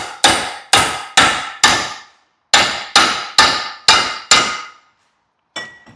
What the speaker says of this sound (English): I'm just gonna support the joint and tap that cap in.